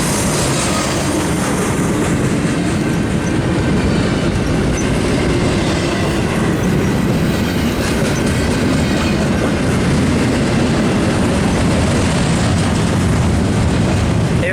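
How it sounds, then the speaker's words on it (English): A long freight train rolls through Cajon Pass in a steady, loud, continuous roar of wheels and rail noise that holds from start to finish, with faint squeals over the low rumble. "Jeez, this is one big train."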